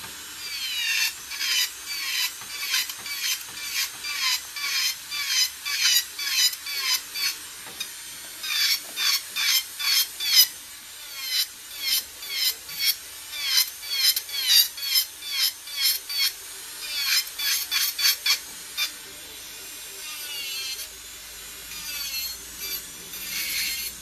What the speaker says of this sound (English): I'm just going to use the drill to take down some of the bulk.